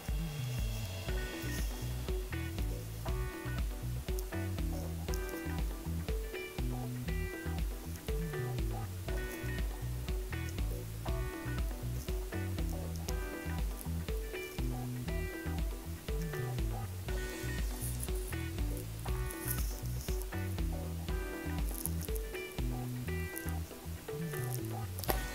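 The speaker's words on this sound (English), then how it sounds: "So I'll be taking an appam pan where I'll be adding less oil, and I'll be adding my kofta paste to these molds." Bottle gourd kofta paste frying in a lightly oiled appam pan, a continuous soft sizzle with busy crackling and bubbling that holds steady throughout.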